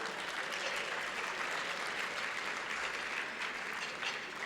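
Sustained audience applause fills a gala hall as a guest councilwoman is honored, a dense, steady wash of many hands clapping at even loudness throughout, with no voices standing out.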